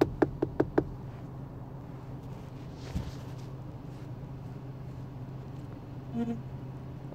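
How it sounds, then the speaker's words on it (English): Knocking on a door in a video game: a quick burst of four sharp raps near the start, then a dull droning room tone with a faint thump midway and a soft tonal blip near the end. "Knock knock. Cue sound effects."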